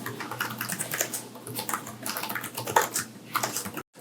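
Fingers type steadily on the keyboard of a NextDock lapdock, a fast, light run of soft plastic key clicks at moderate level that stops abruptly near the end.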